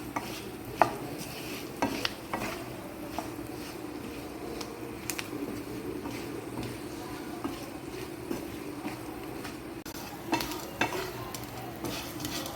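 Baby potatoes stir-fry in a pan with a continuous low sizzle, scraped and stirred at intervals with soft knocks and clinks of the utensil against the pan.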